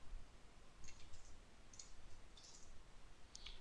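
Several quiet mouse clicks at uneven intervals, each a brief sharp tick against a steady low room hum, with no voices.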